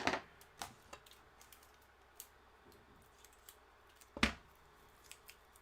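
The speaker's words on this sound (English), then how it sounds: "So I'm firstly going to cut the caps on." Snips from cutters trimming caps while building a Makita 18V battery pack with Sony VTC6 cells, a few sharp isolated clicks at the start and one louder cut near the end over a quiet room.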